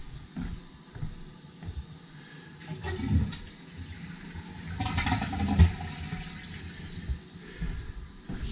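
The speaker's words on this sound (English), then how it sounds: "Just flush it one more time." A toilet being flushed in a new home with a cesspool system, with two surges of rushing water over a low gurgling refill.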